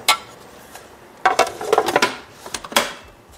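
A spoon clinks and scrapes in a bowl of vegan no-bake brownie mixture as cocoa powder is stirred in, with irregular bursts of clattering taps, fairly close.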